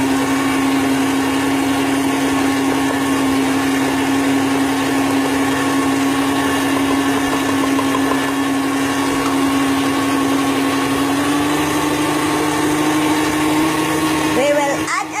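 Electric mixer beating chicken ball batter, a loud, steady motor whine with a constant pitched hum that rises slightly near the end, running continuously up close.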